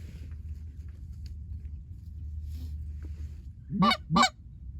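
Geese coming in to land over a hunting spread give two loud, close honks near the end, following a stretch of low rumbling outdoor background.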